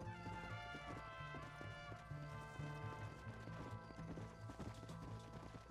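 Horse hooves clip-clop at a steady trot in the Western video game Red Dead Redemption, each beat sharp and distinct over a layer of in-game music and ambience, with a brief whinny-like sound mixed in.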